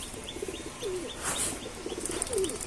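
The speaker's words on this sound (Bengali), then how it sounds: "এই যে একটা আর্মি কবুতর দেখেন আপনারা কেমন লাগে, এর চোখটা দেখেন।" An army pigeon coos in a low, soft rolling pattern, with a couple of brief coo phrases rising over a steady, noisy background and no talking.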